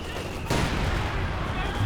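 Mortar fire in the video game Company of Heroes 2, a sudden loud blast-like onset followed by sustained rumbling battle noise with scattered shots, with no voices heard.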